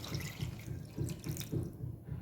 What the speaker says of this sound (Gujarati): તો હવે આપણે ગ્રેવીની અંદર અડધા ગ્લાસ જેટલું પાણી ઉમેરીશું.